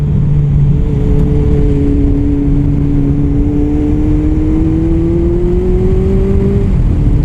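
A 2006 Honda CB1300 motorcycle engine revs steadily, its pitch sliding slowly upward as it accelerates, loud and continuous with a low rumbling drone throughout.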